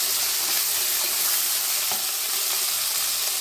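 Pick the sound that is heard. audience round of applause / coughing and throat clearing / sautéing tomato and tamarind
sautéing tomato and tamarind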